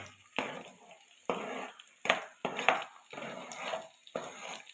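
Shallots and onions sauté in hot oil, with a soft sizzle broken by about six rhythmic bursts of stirring and scraping against the pan, close and moderately loud, with no talking.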